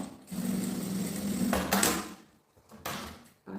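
A sewing machine runs a seam on a bag in two bursts, a steady whirring buzz for about two seconds, a pause, then a shorter run, close and moderately loud.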